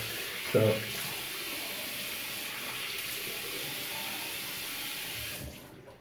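Before a shave, water runs steadily from a tap for several seconds in a bathroom sink. The flow is moderately quiet and close, with a brief knock near the start, and it stops at the end.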